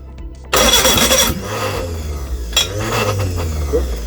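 A Reliant Regal Supervan engine cranks and fires abruptly, catching loudly, then settles into an uneven, rough idle with a brief rev.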